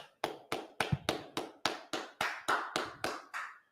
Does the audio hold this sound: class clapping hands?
yes